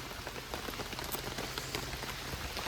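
Steady rain patters on surfaces around a homestead dog shelter, a dense continuous hiss of drops with scattered sharper taps, close and even throughout, with no voices.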